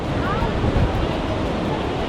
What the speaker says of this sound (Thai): น้ำเนี่ยไหลแรงแบบนี้นะครับ ปะทะกับก้อนหินแบบนี้นะครับ